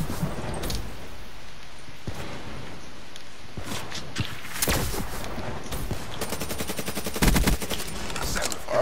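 Rapid bursts of sniper rifle and automatic gunfire in a competitive 1v1 video game match, loud and close, with sharp cracks and a dense volley near the end; no talking.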